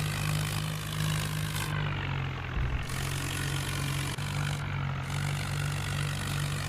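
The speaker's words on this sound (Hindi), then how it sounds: "ट्रॉली में ज़्यादा वजन होने की वजह से ट्रैक्टर को चलने में बहुत प्रॉब्लम हो रही है" Tractor engine in Indian Vehicles Simulator, labouring steadily as it hauls a heavily loaded trolley along a rough forest track, a continuous low droning rumble with small dips and no voices.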